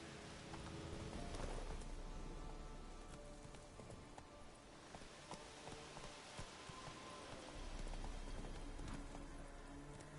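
A horse gallops in The Witcher video game, its quick clip-clop hoofbeats steady and close over a continuous outdoor ambience with rain-like hiss, loud throughout.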